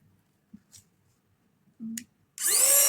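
A small room vacuum cleaner switches on near the end, giving a loud whirring drone after a few faint clicks and taps.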